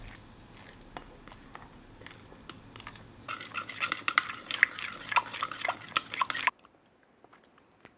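Soft scraping and clinking in a bowl as a spicy Korean chicken skewer sauce with oil and water is stirred, growing busier midway, then stopping abruptly into near silence.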